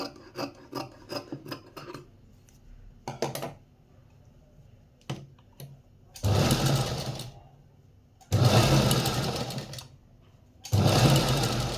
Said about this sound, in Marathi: हवं तर परत एकदा एक शिलाई मारायची म्हणजे कटोरीवर डबल शिलाई घ्यायचीच आहे